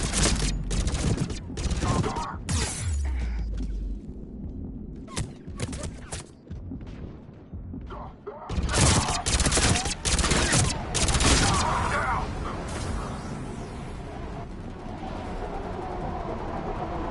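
Bursts of gunfire in a Mass Effect 3 combat scene, sharp clustered volleys of shots coming in spurts with quieter gaps and background battle noise, some voices mixed in.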